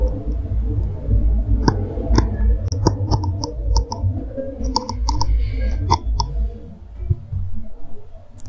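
Sharp computer mouse clicks, several spaced irregularly, over low background noise while someone navigates the Google Play Console dashboard.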